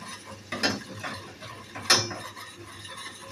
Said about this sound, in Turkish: Pekmezimizi tereyağıyla açıyoruz.